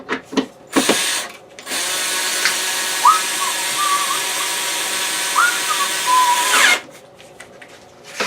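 A power driver runs a screw in during restoration of a clipped-wing Taylorcraft aircraft: a loud, steady whirring whine lasting several seconds with pitch shifts as the screw seats, framed by short handling knocks before and after.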